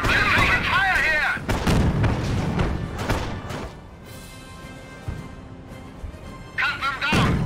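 Gunfire and artillery booms from the World War II strategy game Company of Heroes, with heavy blasts and crackling shots around someone talking over the battle.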